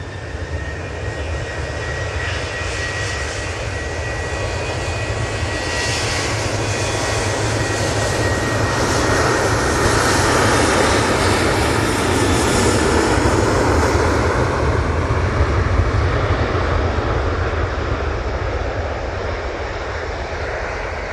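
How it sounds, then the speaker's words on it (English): A Boeing 737 from Dublin lands at Manchester Airport in wet, squally weather, its jet engines giving a loud, steady roar that swells to a peak midway and stays strong throughout, with no talking. "Fly Coco 737 flying in from Dublin, landing around 11 a.m."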